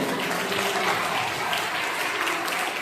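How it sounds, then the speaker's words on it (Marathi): Schoolchildren at an annual prize-giving ceremony clapping loudly, a dense, continuous burst of applause from a large group, with no pauses. "जोरदार टाळ्या वाजवायचे"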